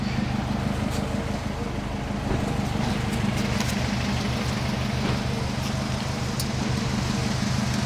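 A turbocharged Honda S2000 with a big turbo, making about 450 wheel horsepower, idles with a steady, close, deep rumble that holds evenly throughout.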